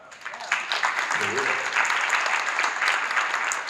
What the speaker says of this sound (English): Y'all clap it up for that one.